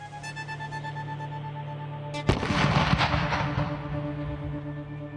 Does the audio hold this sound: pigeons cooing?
no